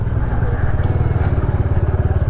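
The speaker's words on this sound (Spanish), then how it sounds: "Bueno, yo como no sé de motocicleta, no sé qué modelo sea." A motorcycle engine runs close by with a rapid, pulsing low-pitched putter at a steady idle-like rhythm, loud and alone.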